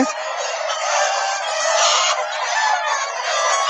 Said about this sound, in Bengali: মুরগির কলরবে মুখর হয়ে উঠেছে চারিদিক